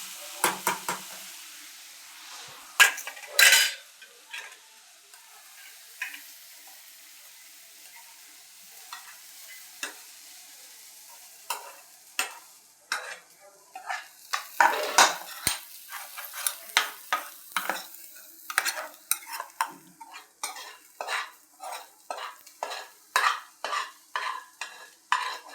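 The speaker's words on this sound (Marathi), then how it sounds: "आता मी तेल टाकून कांदा भाजते" Chopped onion fries in oil in a pan with scraping stirs, giving soft sizzling under sharp clatters of the spoon that turn into quick, rhythmic strokes toward the end, close by and with no talk.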